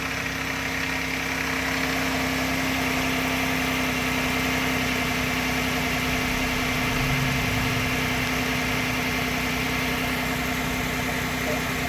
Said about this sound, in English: that little tapping rattle in the engine